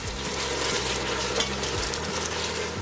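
Vegetables are stirred in a saucepan with lamb jus and chicken broth, giving a steady close simmering sizzle with faint scraping throughout.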